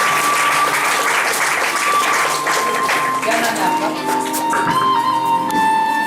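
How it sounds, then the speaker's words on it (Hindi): Loud, sustained applause from a church congregation at a prayer-healing service, dense clapping filling the whole stretch with steady intensity. "परमेश्वर को जोरदार तालियों का धन्यवाद"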